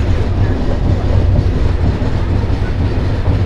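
Loud, steady rumble of a train running toward Ibrahimabad railway station, Bangladesh, with dense low-pitched rolling noise and soft clicking of wheels throughout, unbroken and without speech.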